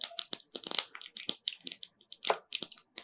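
Rapid, irregular popping and crackling bursts of mustard seeds in hot oil, loud and close, continuing in quick succession without pause.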